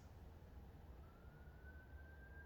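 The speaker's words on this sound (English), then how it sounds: "you hear the sirens in the background" A faint siren wails far off, its rising tone drifting under a steady low rumble of background noise.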